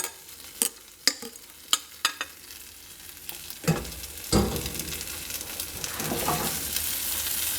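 A stuffed Spanish potato tortilla with ham and cheese fries in a pan. A few sharp utensil taps come first, then a steady, close sizzle builds and fills the rest of the time.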